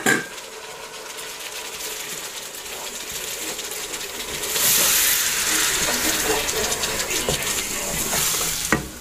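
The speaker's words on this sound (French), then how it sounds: "on verse la poudre et on la fait revenir un petit peu" Molokhia powder fries and sizzles in a pan as it is stirred, a steady close hiss with scraping and clinks, swelling louder midway and holding to the end.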